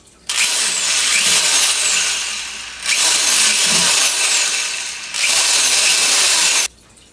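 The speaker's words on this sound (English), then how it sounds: "So we have drilled holes in our tub" Power drill boring holes in a plastic tub for a food-composting worm bin, three long loud whining bursts separated by short pauses, close and alone.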